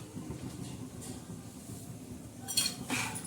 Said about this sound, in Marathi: असं मस्तपैकी खमंग असा रवा भाजायचा आहे